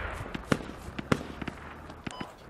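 Explosions during a Russian assault on the Gorodok map in the Squad video game: two sharp, heavy blasts about half a second apart, then fainter cracks and pops, heard at a distance over a low background rumble.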